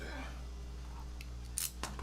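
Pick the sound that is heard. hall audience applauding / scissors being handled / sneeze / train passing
scissors being handled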